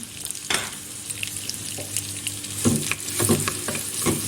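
Onions sizzle and crackle in hot butter, a steady frying hiss with occasional spatters and stirring clinks, close by with no talking.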